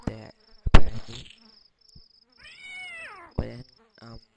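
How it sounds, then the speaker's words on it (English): Flies buzz in The Visitor video game, a wavering insect drone heard amid short, sharp game sounds and a cat's meow, all fairly loud and close. "Then flies will come, and then a spider will also come."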